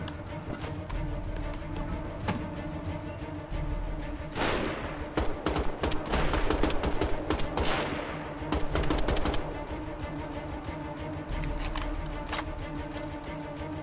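Gunfire in Wolfenstein: The Old Blood, a dense stretch of rapid automatic shots fired in quick bursts over a steady game background hum, fairly loud and close.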